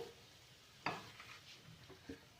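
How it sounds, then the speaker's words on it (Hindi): Spices frying in a pan for a potato kachori filling: a faint, close sizzle with a few scraping stirs of a spoon against the pan. "कुछ सेकंड्स इनको फ्राई करेंगे और आलू शामिल कर देंगे"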